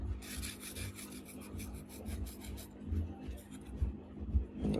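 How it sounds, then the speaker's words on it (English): Dry thermal paste is scraped off a laptop processor with steady, raspy rubbing strokes, close up and repeated rhythmically over a low background hum. "Scrape it carefully. I have to scrape it gently."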